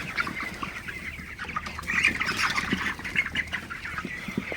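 A flock of 22-day-old broiler chickens on a farm in the morning keeps up a busy, overlapping chorus of clucks and chirps close by, with no voices.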